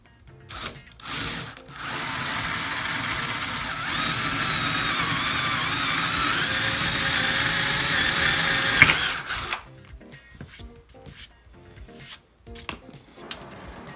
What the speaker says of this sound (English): So we're going to go ahead and make the hole for this.